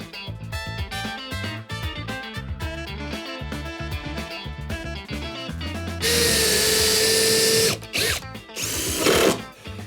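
Power drill driving screws into a wooden shelf while building a coffee or tea station, close and loud: a whirring motor in rising bursts, then sustained high-pitched grinding as the screws bite into the wood.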